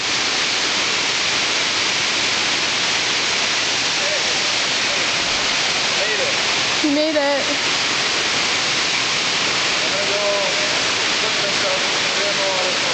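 Steady, loud rush of a waterfall fills the scene from start to finish as a broad, unbroken roar near a slippery streambed, with a brief spoken line partway through.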